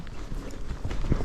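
A Tennessee Walking Horse mare canters along a trail. Her hoofbeats thud in a quick rhythmic patter against a rustling outdoor background during a short, close burst.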